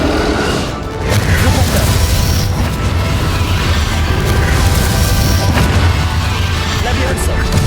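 The Confringo fire spell blasts during the Hogwarts Legacy final boss fight against Ranrock, a loud, dense roar of booming impacts and crashes that rumbles on without pause, with voices mixed into the din.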